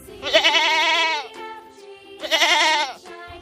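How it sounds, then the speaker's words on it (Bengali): A goat bleats twice, close and loud. Each bleat is a wavering, nasal cry lasting about a second, and the two are separated by a short gap. "ছাগল।"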